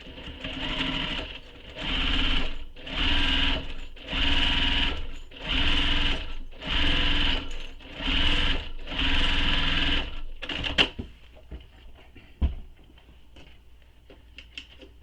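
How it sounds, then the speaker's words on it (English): Sewing machine stitching the top edge of a fabric satchel in about eight steady bursts with short pauses, then stopping, followed by a few faint clicks and handling noises. "So I'm going to sew this top edge using the seam allowance given in the pattern."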